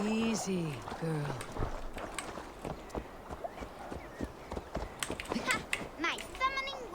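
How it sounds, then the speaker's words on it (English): Horse hooves clop in an uneven, shuffling rhythm in a video game, mixed with a horse's whinny and snorts and bursts of nearby talking. "Your horse is a little unsettled, but safe."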